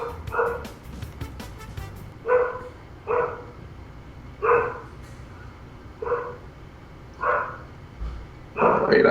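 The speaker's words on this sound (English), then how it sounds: "I have no idea what she's barking at." A dog barks in single loud woofs, about six or seven of them spaced a second or so apart, close by indoors. A faint electronic game sound plays underneath.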